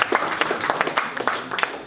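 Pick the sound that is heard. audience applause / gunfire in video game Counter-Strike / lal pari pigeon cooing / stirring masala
audience applause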